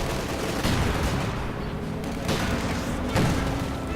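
Mortar fire in Company of Heroes 2 thuds and booms amid a dense wash of battle noise, with several heavy impacts landing close, under a commentator's talk.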